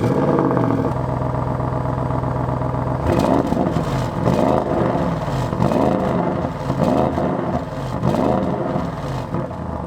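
A 2021 Audi RS6 Vorsprung C8 revs loud and close. A steady engine drone is followed by several sharp throttle blips that rise and fall in quick succession, with exhaust crackle between them.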